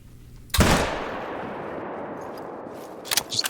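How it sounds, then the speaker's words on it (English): A single loud hunting-rifle shot in theHunter, a hunting video game, cracks out sharply and leaves a long echoing tail that fades over about two seconds, followed by faint clicks. "Alright, I'm gonna try to take a shot."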